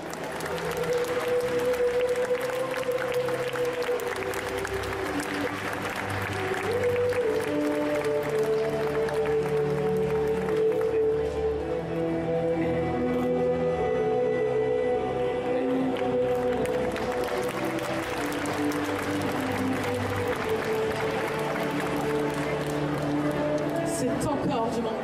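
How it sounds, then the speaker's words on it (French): A cosplay parade audience applauds steadily and loudly throughout, a dense wash of clapping with crowd noise, while music and a presenter's amplified voice carry on beneath it. "Je vais vous demander de faire un tonnerre d'applaudissements"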